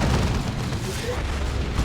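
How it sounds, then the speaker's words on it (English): A massive plasma destroyer gun fires its regular attack in a Dawn of War 2 multiplayer battle, a dense, roaring boom filling the short stretch with continuous heavy blast noise. "this massive plasma destroyer gun has a regular attack, which you just saw there"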